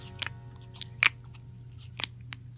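Fluffy, clicky, jiggly cucumber-melon slime being squeezed and played with, giving a few soft, close clicks and pops spaced about a second apart over a quiet background hum.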